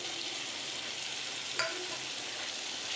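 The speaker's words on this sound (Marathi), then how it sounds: "चला 1-2 सेकंद परतून घेते" Paneer bhurji sautéing in a pan, with a faint continuous sizzle and a single utensil tap or scrape partway through.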